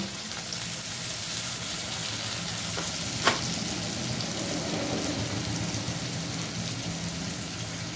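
Blended garlic paste fries in a pan for a Loitta dry fish (Bombay duck) dish, a soft, steady sizzle with one sharp clink partway through.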